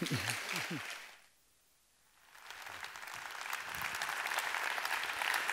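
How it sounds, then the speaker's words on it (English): A forum audience applauds Santiago Sierra at a European culture event; a voice trails off first, a short hush follows, then broad clapping swells up and holds steady to the end. "Give him a warm applause"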